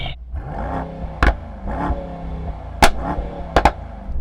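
A Mercedes-AMG GT 4-door engine revs in a few short bursts over a steady idle, close and fairly loud, with sharp blips separated by brief pauses.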